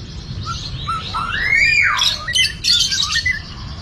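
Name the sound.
white-rumped shama (murai batu) bird calling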